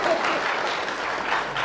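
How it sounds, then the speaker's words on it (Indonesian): A church congregation applauds at a worship service, producing a dense, steady wash of many hands clapping together at close range, loud and continuous without pause. "Tepuk tangan buat Tuhan Yesus."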